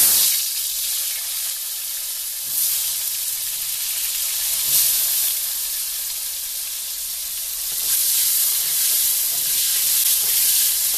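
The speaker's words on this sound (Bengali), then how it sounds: "তেলটা গরম হয়েছে, আলুটা দিই" Potatoes dropped into hot oil in a large wok, a loud, dense sizzle that spatters continuously for several seconds and swells again toward the end.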